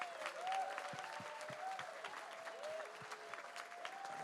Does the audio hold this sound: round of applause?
yes